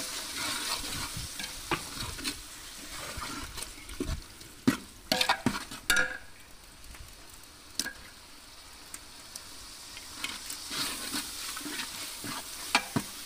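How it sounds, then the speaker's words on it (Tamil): About 1.5 kilograms of chopped tomatoes sautéing in a large pot for Madurai-style mutton biryani, a constant soft sizzle broken by clustered scraping and clattering stirs from a ladle, close and moderately loud. "தக்காளியும் நல்லா வதங்கட்டும்."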